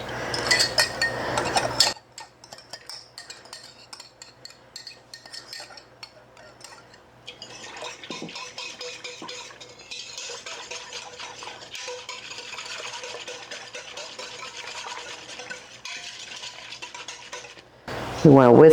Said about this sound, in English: We want to whisk that to make sure it gets evenly distributed into the milk.